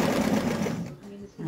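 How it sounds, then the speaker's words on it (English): A sewing machine runs in a fast, steady stitching burr set at tension 4, close and continuous, then slows and stops briefly before starting up again. "That's the first line of stitching without having to mess around with the tension thingy."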